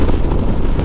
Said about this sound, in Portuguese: É muito vento lateral, galera.